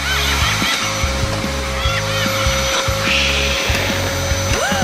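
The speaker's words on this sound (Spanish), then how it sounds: "Con la ayuda de la aspiradora, no dejaré que infles una gran burbuja." A vacuum cleaner runs loud and steady and close, its droning motor holding an even pitch throughout with slight fluctuations in tone.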